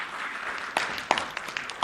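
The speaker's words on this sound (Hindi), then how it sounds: "ताली बजनी चाहिए थोड़ी सी।" A political speech audience offers a few scattered, sparse claps, faint and irregular, rather than full applause.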